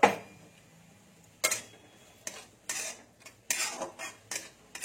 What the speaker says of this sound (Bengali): এই দেখুন, নারকেলটা নেড়ে নেবো একটু।